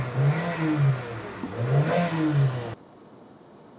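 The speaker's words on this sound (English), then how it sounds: "we'll just let the car idle for another 5 minutes, revving intermittently" A Saab 9-3 2.0L engine with injector fault codes idles and then revs in two rising-and-falling swells. It is steady and fairly loud up close, then cuts off abruptly into near silence.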